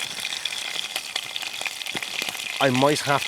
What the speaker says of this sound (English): But if we can just get the meat brown first.